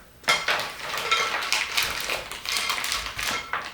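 A thin clay wire slices through a block of fresh pottery clay, giving a close, rough scraping drag with small ticking bursts over a few seconds, no voices.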